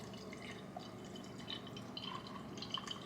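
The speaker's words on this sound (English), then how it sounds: "Pour it in the cup." Liquid trickles into a cup, coming through as quiet scattered drips and light splashes, soft and close with no talking.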